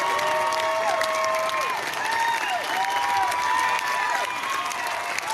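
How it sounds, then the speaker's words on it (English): A big outdoor amphitheater concert crowd applauds and cheers steadily and loudly, with whistles rising through the dense clapping. "It's a big crowd."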